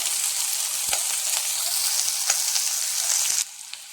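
A small onion, sliced lengthwise, sizzles steadily in hot oil for a Kerala-style mezhukkupuratti stir-fry, a close, continuous frying hiss with a few soft stirring taps that drops quieter near the end.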